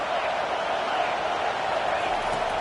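Football stadium crowd roaring during a third-and-long play near the goal line, a dense, steady wash of noise that holds at an even level throughout.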